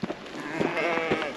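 A goat bleats loudly and close on a cold migration route, one drawn-out wavering cry alone with no talk.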